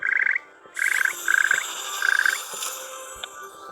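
Frogs croak in short rapid bursts of clicks in the Harry Potter Hogwarts Mystery video game, four separate volleys over a steady layered game ambience.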